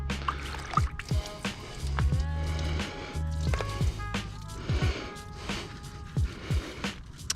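A brush scrubs an unprotected car wheel coated in Purge wheel cleaner up close, making wet squishing and swishing strokes with drips and liquid splashes in an irregular rhythm.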